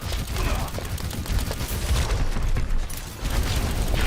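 Sweeping gunfire in the Overwatch video game, with dense rapid shots and booms forming a continuous barrage at moderate loudness, and a voice talking over the action.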